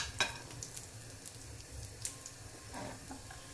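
Small pieces of almond and cashew roasting in a pan for wheat and jaggery kheer: faint, soft sizzling with occasional scrapes and clinks of a spoon stirring, quiet and close.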